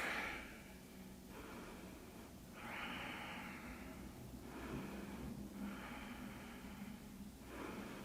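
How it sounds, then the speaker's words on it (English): Deep yoga breaths come in slow, close cycles, several long audible inhales and exhales alternating with brief pauses, soft and unaccompanied. "Take some deep breaths."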